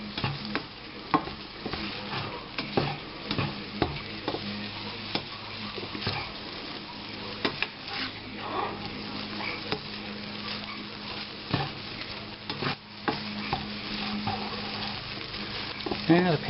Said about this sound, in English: We're starting to get some sizzle.